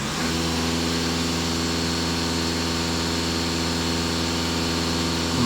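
A VW Passat 2.0 TDI diesel engine held at a steady 2500 rpm, a loud, even, droning hum with a constant tone and no variation, close by with no talking.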